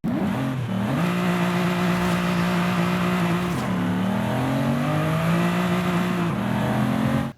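Aston Martin One-77 with its 7.3 litre engine in Forza Horizon 5, revving steadily and loudly, the pitch climbing and dipping through several rises on its own.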